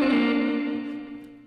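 An electric guitar riff from a double-tracked intro, treated with effects, rings out as one sustained chord that slowly decays, clear and solo.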